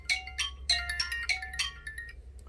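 A phone rings with an incoming call during an iPhone 6s Plus screen replacement, a series of bright melodic electronic tones repeating in quick bursts over a low steady hum, with no talking.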